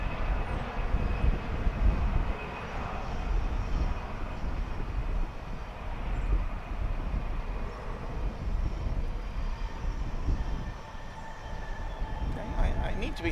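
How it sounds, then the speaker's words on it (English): A Delta airliner at DFW airport, roaring steadily and loudly on the runway in a broad, sustained engine rumble that swells slightly and holds through the whole stretch. "And here goes Delta flight"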